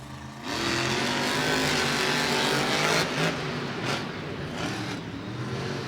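Monster trucks, including Monster Mutt Dalmatian and Galaxy, race inside AT&T Stadium in Arlington, their engines roaring loudly and revving up with rising pitch, a sustained, powerful blare with brief surges as they accelerate.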